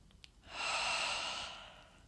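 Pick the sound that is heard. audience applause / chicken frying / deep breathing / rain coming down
deep breathing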